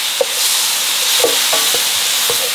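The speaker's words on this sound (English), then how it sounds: "we're just gonna stir fry" Food is stir-fried with a little salt and sugar in a Sunbeam Duraceramic electric frypan with a ceramic coating. A loud, even hiss of sizzling runs throughout, broken by several light scraping and tapping strokes of the utensil.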